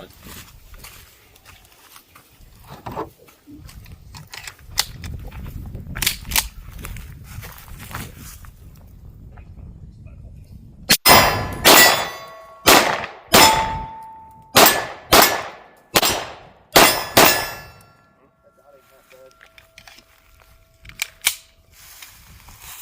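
Kimber 2K11 pistol fired at steel targets outdoors: after a quieter stretch of low background noise, about eight sharp shots crack in fairly quick succession, each followed by a bright metallic ring from the struck steel.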